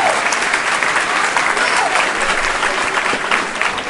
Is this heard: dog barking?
no